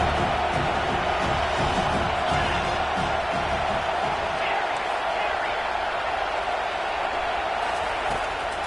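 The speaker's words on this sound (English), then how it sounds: "Decibels rising as the crowd gets behind this defense on 3rd down" A football stadium crowd roars behind the home defense on third down, a loud continuous wall of cheering that holds steady for several seconds beneath a commentator's voice.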